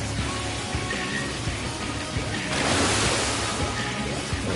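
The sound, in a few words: water shooting from pipes in video game Final Fantasy XIV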